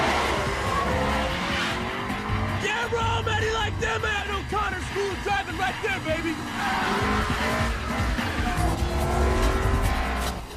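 Cars racing through city streets in the film 2 Fast 2 Furious, engines roaring and revving with repeated tire squeals and skids, loud and continuous, with shouting and music mixed in.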